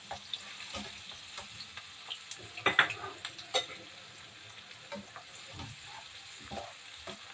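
Onions frying in a little oil in a pan for Ilocano igado, a low steady sizzle with scattered stirring scrapes and clinks, a brief louder burst near the middle, no voices.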